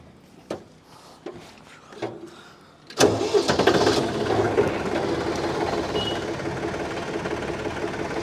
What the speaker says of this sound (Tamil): லைவாக உங்களுக்கு ஆன் பண்ணியே காமிக்கிறேன் இதோடய சவுண்டு எந்த அளவுக்கு இருக்குன்னு சொல்லிட்டு